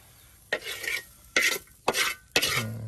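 Fried onion and garlic are stirred in a pan while chili chicken curry is made, in four scraping strokes about half a second apart, close and fairly loud, with a soft sizzle beneath.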